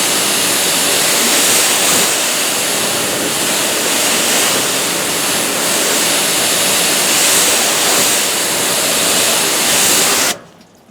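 Water spray hisses steadily and loudly onto car paint coated with DPC Armor SiO2 spray sealant from Dallas Paint Correction, a continuous rushing stream that cuts off abruptly near the end.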